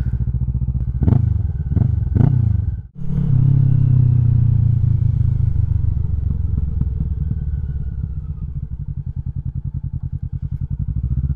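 A Kawasaki Vulcan 650 S motorcycle idling and then pulling away on a fall ride, with a few sharp revs and a clunk near the start before a steady, throbbing engine note.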